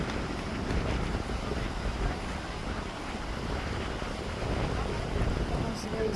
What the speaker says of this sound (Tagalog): Lakas guys ang hangin.